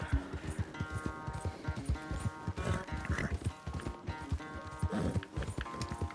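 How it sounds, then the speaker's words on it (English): Horse hooves clip-clopping in a steady galloping rhythm while riding in Red Dead Redemption 2, moderately close, with soft background music underneath. "I'm just, like, riding it around to calm it down or whatever"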